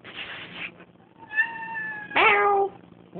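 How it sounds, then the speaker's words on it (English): A house cat meows close by, first a soft, muffled call, then a drawn-out mew and a louder, rising, strained meow, with brief quiet between the calls. "Hey, kitty. Meow."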